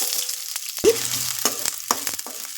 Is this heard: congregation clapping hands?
no